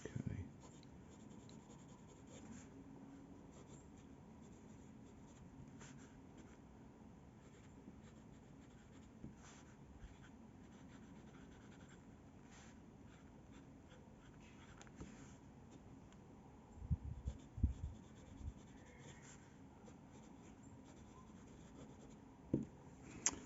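Soft, steady scratching of a Lamy Ion fountain pen nib on paper continues through most of the stretch, quiet and close. A few louder taps and shuffles come near the end.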